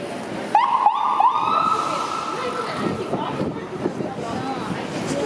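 An ambulance siren wails on Yonge Street in downtown Toronto, rising in a few quick yelps and then holding a steady tone over street noise and passing traffic, fairly loud and close.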